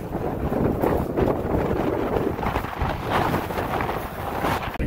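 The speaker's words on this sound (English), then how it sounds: "windy as a mother outside" Strong wind buffets the microphone outside an ice fishing shack, a loud, continuous rushing roar with gusty swells throughout and no voices.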